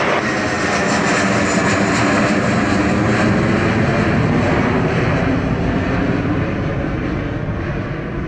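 A jet airliner lands on runway 07 at Montego Bay airport in Jamaica, a loud, steady roar of engines filling the whole stretch, broad and sustained without pause.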